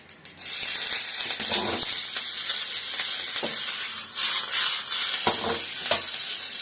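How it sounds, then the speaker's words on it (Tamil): Mustard seeds and cumin tempering in a little hot oil for curd rice, a steady loud sizzle with crackling pops and occasional stirring scrapes throughout. "இப்போ கொஞ்சமாக எண்ணெய் விட்டு தயிர் சாதத்துக்கு கொஞ்சம் தாளிச்சு கடுகு ஜீரகம் போட்டுக்கலாம்"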